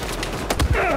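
Gunfire in the video game Battlefield 4: a short cluster of sharp shots fired in quick succession, loud and close, with no talk over it.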